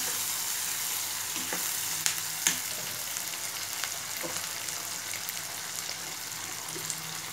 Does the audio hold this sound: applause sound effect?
no